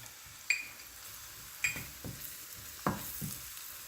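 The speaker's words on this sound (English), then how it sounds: "Just stir it around for a while." Onions and flour are stirred in a hot pan, with a spoon scraping and knocking against the pan at irregular intervals over a low, steady sizzle.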